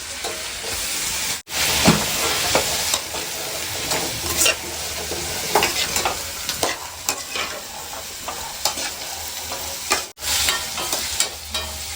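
Chickpea sundal with tomato is stir-fried in a pan: a steady sizzle fills the whole stretch, with repeated scraping and stirring strokes close by and no voices.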